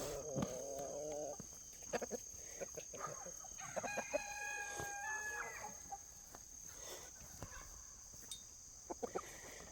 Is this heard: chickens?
yes